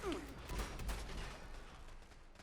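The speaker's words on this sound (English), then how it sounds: "I hear gunfire still." Bursts of Fallout 76 gunfire crackle in quick succession, fairly loud and dense, with a mechanical whine at the start and a busy noisy background throughout.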